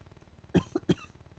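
Three short, close coughs in quick succession from one person, fairly loud against a quiet room, with a low hum underneath.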